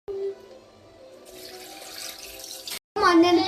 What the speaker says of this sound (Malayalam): ഒരു കപ്പ് വെള്ളം കൂടെ ആഡ് ചെയ്യുവാണ്